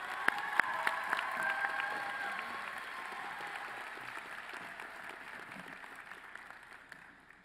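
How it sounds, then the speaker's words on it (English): Audience applause at a university College of Business commencement ceremony: a broad, sustained clapping from a large crowd in a hall, sharper at first and slowly thinning as it fades. "Please join me in giving a warm round of applause to our college business graduate student"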